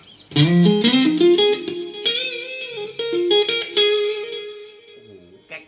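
A Fender Deluxe Stratocaster HSS from Mexico runs through a Mooer GE-200 multi-effects patch into a Marshall cabinet. It plays a loud, sustained, effected electric guitar line with rising notes and ringing chords, alone with no talk.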